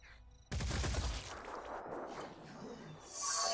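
Gunfire in the tactical video game Phoenix Point: a sharp report erupts suddenly after a quiet moment and rings out with a long noisy tail, followed by a bright burst of effects near the end.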